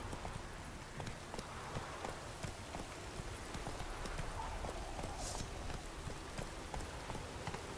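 Roach, a horse in The Witcher 3, galloping in a steady rapid clip-clop of hooves over a constant rain-like hiss, moderately loud and unbroken, with no voices.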